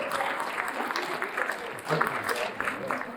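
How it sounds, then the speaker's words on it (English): An audience at an awards ceremony in the Palace Theater claps and applauds, a moderate wash of hands with a few louder bursts, while some voices murmur and cheer through it. "yeah, you can clap"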